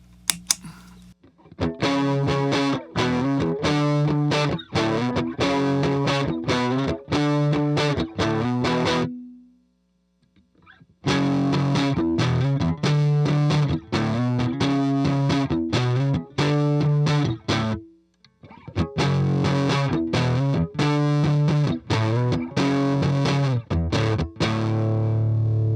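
Electric guitar driven through a Unidrive overdrive pedal, playing loud, thick distorted chords in three sustained bursts separated by brief silences, with no talk.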